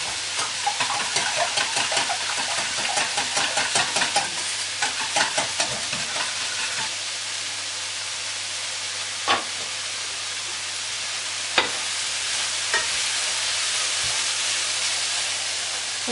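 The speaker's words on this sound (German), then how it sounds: "Die angerührte Speisestärke und den Parmesan. Verrühre ich" Steady stirring and scraping in a pan as carbonara sauce with cornstarch and Parmesan cooks, with a soft sizzling hiss, a few sharper clinks standing out near the end, no talking.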